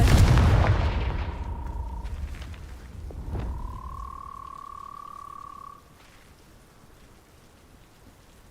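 A Confringo explosion spell cast in Hogwarts Legacy, a loud burst followed by a sustained tonal ring and a decaying rumble that cuts off into a quiet tail.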